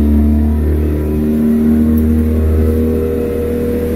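An outboard boat motor on a used Hewescraft 160 runs steadily with a loud, even low drone, close by and uninterrupted, with no voices.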